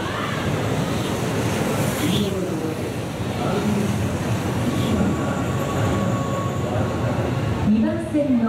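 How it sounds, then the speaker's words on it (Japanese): A Keihan express bound for Yodoyabashi, eight cars long, rolls into platform 3 with a loud, steady rumble of wheels and running gear and a brief squeal near the end, while a public-address voice speaks over it. "まもなく3番線に特急淀屋橋行きが8両到着します。"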